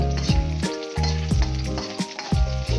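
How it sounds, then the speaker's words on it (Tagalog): Garlic and onion sautéing in oil in a pan, a steady bright sizzle with stirring scrapes and utensil knocks falling in a loose rhythm, close and clear with no talking. "Magigisa po tayo ng ating bawang at saka ng ating sibuyas."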